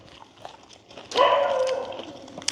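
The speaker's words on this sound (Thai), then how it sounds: "ฟังเสียงหมาเห่าซะ" A dog gives one short bark or yelp partway through, set against quiet background noise, with faint bits of sound around it.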